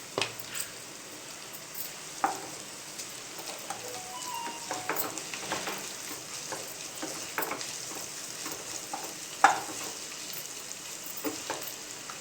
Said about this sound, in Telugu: ఇందులో కరివేపాకు వేస్తానండి. అల్లం వెల్లుల్లి పేస్ట్,